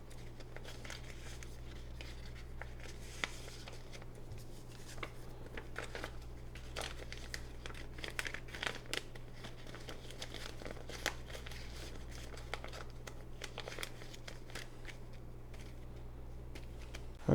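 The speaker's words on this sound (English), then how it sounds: "Let's put this in a space-saving sleeve." A CD slid into a plastic space-saving sleeve, with close, dry crinkling and rustling of thin plastic that runs steadily throughout, marked by a few sharper crackles.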